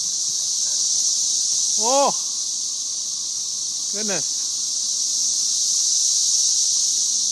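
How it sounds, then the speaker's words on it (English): A dense swarm of 13-year periodical cicadas buzzes in a tree, a loud steady high drone that runs throughout, with two brief squeals and a short exclamation from a person nearby. "This is the 13-year cicadas. We have probably one of the biggest swarms around."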